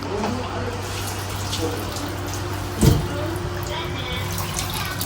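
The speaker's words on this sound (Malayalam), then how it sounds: "ഇത്രയും വെള്ളം നമ്മൾ പിഴിഞ്ഞ് ഇതെടുക്കുക" Soaked soybeans are squeezed by hand over a bowl, water trickling and draining steadily with a low hum beneath, broken by one brief, louder splash partway through.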